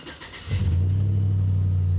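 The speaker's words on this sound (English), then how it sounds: "So I'll hop in the car, start her up." A Chevrolet Suburban with over 300,000 miles cranks briefly and catches, then settles into a low, steady idle rumble heard up close.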